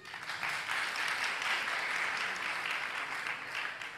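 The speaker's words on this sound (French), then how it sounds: "Applaudissons pour lui" An audience at a gathering about a polygamous marriage keeps up sustained, dense applause from many hands, with a faint voice or two under it.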